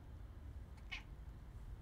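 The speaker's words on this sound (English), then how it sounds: "Meow." A cat meows once inside the video game The Room, a short bright call heard faintly over a steady low background hum.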